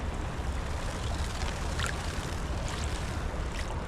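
Water sloshes and swishes steadily in a gold pan being swirled during gold panning, a soft, continuous wash with no speech.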